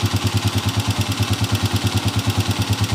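Engine of a Honda TMX125 motorcycle converted to 155cc idling close by, a steady pulsing putter with rapid even beats throughout.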